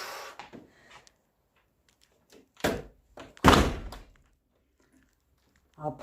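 A window shutter is pulled closed indoors, giving a few scattered knocks and then two solid thunks close by, with quiet pauses between.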